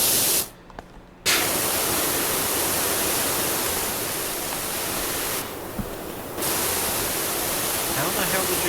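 Pressure washer spraying water onto skate park surfaces, a loud, steady broadband hiss that cuts out briefly twice, with voices talking over it.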